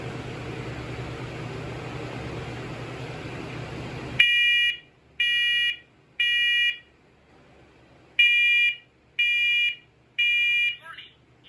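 A First Alert smoke alarm being tested follows a steady hiss with loud, shrill electronic beeps, two groups of three evenly spaced pulses separated by a short pause, each one close and piercing.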